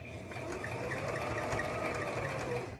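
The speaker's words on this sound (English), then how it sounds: "And I'm going to continue sewing the seam." A sewing machine stitches a seam on a child's hat, a steady close whirring hum with a fast, even mechanical stitching rhythm running throughout without pause.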